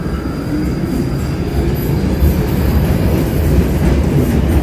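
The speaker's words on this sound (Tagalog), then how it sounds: "So, ayan, paalis na yung train." A London Underground train pulls away from the platform with a steady, close rumble of wheels and carriages that holds for the whole stretch, with faint high squeals above it.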